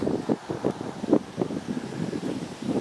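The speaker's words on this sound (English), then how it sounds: "Got a lot of wind, it feels good." Wind blows outdoors near a walkway, buffeting the microphone in steady low rumbling gusts with a few stronger surges, fairly loud and close, with no voices.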